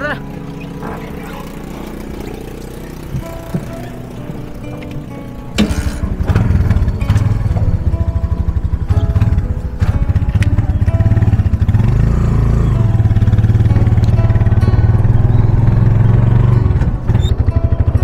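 A motorized tricycle engine putters steadily and loudly once it starts, a low droning rumble running for several seconds, with people talking nearby in Filipino over the noise.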